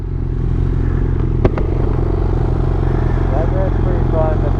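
A GSXR 600 motorcycle rides along a road, its engine giving a steady droning hum under constant wind rush, with a brief clatter partway through.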